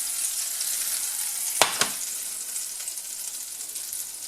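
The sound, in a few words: butter foaming and sizzling in a pan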